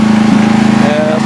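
A small engine, apparently a riding lawn mower or similar machine that has trouble restarting when hot, runs steadily and loudly with a constant drone, close by, over the whole short stretch.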